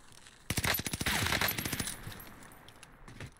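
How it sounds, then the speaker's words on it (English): Rapid bursts of automatic gunfire in the Warzone video game crack loudly at close range, a dense volley of shots over about a second and a half that then trails off into scattered, fainter pops. "Where are we getting shot from"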